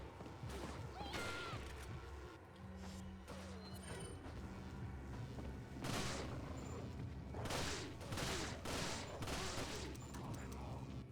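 Gunfire in Resident Evil 4, including a Magnum, sounding as scattered sharp shots and bursts over quiet game ambience, several clustered in the second half, with a brief tonal hum early on.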